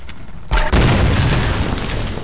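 A heavy grenade launcher blast in the Tomb Raider video game, one deep booming explosion hitting suddenly and close, followed by a rumbling, crackling tail that fills the rest of the moment.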